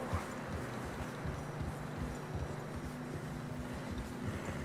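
Steady clip-clop of horse hooves trudging through fresh snow in an even rhythm in the video game Red Dead Redemption 2, fairly close, with a low rumbling background and no talking.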